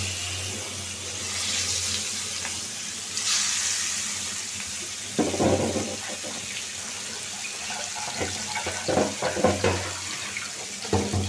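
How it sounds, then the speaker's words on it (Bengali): Fish rubbed with salt and turmeric sizzles in a kadai on a stove, a steady close hiss of frying with occasional clinks and clatter, and no talking. "এখন ভাইজা নিব।"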